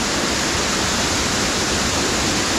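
Up close at Harmby waterfall, water pours over flat rocks in a loud, dense, unbroken roar of broadband rushing noise, with no voices.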